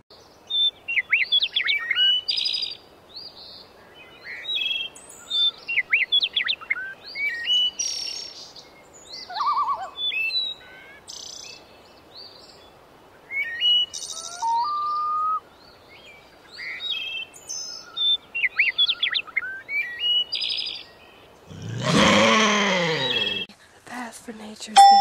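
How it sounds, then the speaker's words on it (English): Songbirds chirp and whistle outdoors in spring in a run of short, bright calls, near and fairly loud against quiet surroundings, with a burst of rougher noise late on. "Was that a bird singing to us?"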